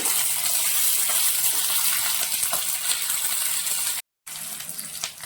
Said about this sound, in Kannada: ಸಾಸಿವೆ ಮೆಂತೆ ಹಾಕ್ತದನಿ ಬೆಳ್ಳುಳ್ಳಿ ಹಾಕ್ತಾ ಈಗ ಫ್ರೈ ಮಾಡ್ಕೊಳ್ಳೋಣ